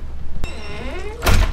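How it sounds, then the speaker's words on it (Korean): A cabin door below deck on a yacht swings shut by itself, ending in a single loud, close thunk after a faint creak and an earlier soft knock. "저절로 닫혀버린 문."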